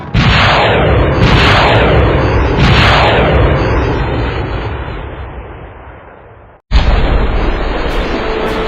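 Missile launches and explosions in the video game GTA: three heavy, roaring booms in quick succession, each with a long rumbling tail that slowly fades, then a brief cut and another loud, sustained blast.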